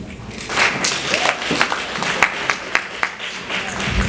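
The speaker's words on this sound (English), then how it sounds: "Which kind of clap is that?" Crowd applause at a banquet: a sustained wash of clapping from many people with sharper individual claps standing out, under a lively room.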